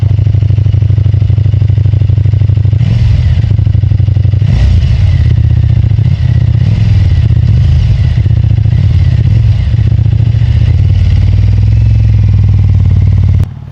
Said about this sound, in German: Jetzt, wo das Motorrad warm ist, hört es auch nochmal komplett anders an